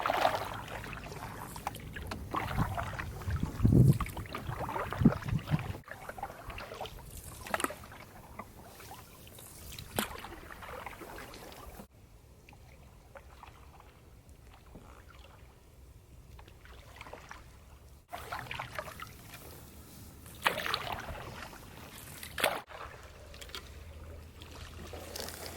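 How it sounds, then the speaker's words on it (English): Canoe being pulled in on water, soft splashes, scrapes and knocks of the hull near the bank, intermittent with quieter stretches of gentle water trickle. "as I was pulling the canoe in"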